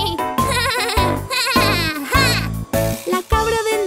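A goat in an animated fairy tale bleats in a series of loud, wavering cries with short breaks between them, close and clear, over a light musical backing.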